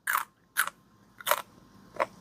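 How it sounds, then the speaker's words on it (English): Someone bites into a raw garden green bean and chews, giving four sharp, close crunches spaced about half a second apart with quiet gaps between them. "You can hear the crunch. I love a raw green bean."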